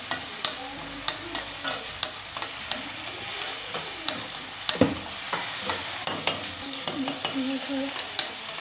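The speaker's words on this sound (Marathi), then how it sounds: "बारीक चिरलेला कांदा, याला परतून घ्यायचं छान प्रकारे।" Finely chopped onion sautéing in a pan while a spoon stirs it, giving a steady string of sharp scraping taps over a soft sizzle, close and fairly loud, with no talking.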